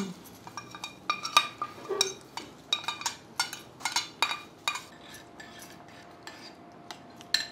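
A metal spoon repeatedly clinks against a pan as a tempering is stirred into curd for temple-style daddojanam, a series of sharp, close taps in an uneven rhythm, with no talk.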